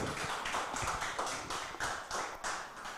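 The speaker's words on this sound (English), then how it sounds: "Please, a round of applause for Tiana again" Audience at a Miss Eminence Ghana pageant applauds contestant Tiana, a quiet, fairly distant patter of clapping with uneven bursts throughout.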